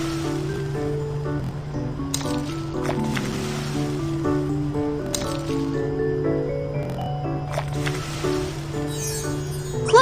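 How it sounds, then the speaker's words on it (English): Squishy, wet cartoon squelches of batter poured over a cheese filling in a baking tray in a baby panda cooking game, sounding steadily under continuous bright game music. "add the rest of the batter to cover the filling"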